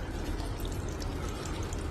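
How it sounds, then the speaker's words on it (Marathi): Water pours steadily and loudly into a pot, a continuous gushing splash from start to finish. "1 ग्लास पाणी घाला"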